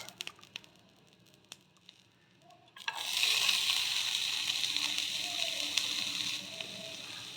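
Curry leaves and onion tossed into a pan of vegetables for a semolina dish burst into loud, steady sizzling and frying with stirring, following a quieter stretch of faint clinks and handling sounds, no talking.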